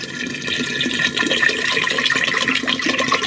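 Water from a whole bottle poured into a pitcher of lemonade, a steady, close splashing pour running throughout with a bright liquid rush.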